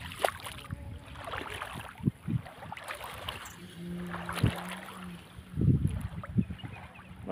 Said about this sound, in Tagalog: Malakas na yung ang agos.